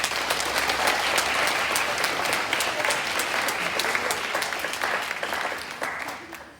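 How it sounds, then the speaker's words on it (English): Sustained audience applause at a school Stage 3 presentation day for Year 5 and 6 students, a dense steady wash of many hands clapping that fades slightly toward the end. "Will you please give another round of applause for all students in Years 5 and 6 for their fantastic achievements."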